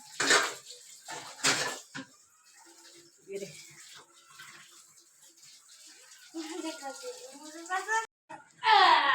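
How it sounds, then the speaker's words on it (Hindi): Dishes and utensils being washed and scrubbed at home, with clinks of metal and running water from a tap. People talk at times over the close clatter. "तो ये मुंह बना के बर्तन मांज रही है।"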